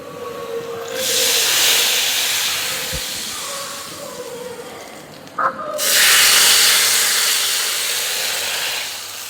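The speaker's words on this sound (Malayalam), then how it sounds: "ഉള്ളിയെല്ലാം പൊരിഞ്ഞ് റെഡിയായി വന്നിട്ടുണ്ട്. നമുക്കിത് നേരെ നമ്മുടെ കറിയിലേക്ക് ഒഴിച്ചു കൊടുക്കാം." A fried onion tempering is poured into a curry, giving two loud bursts of hissing close by, separated by a quieter stretch with a small clink.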